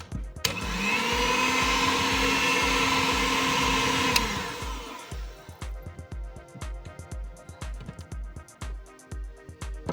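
Cake batter for a cheese potato sponge is beaten after wheat flour goes in, a loud, steady motor whir running for about four seconds, then cutting to a series of rhythmic knocks and scraping taps.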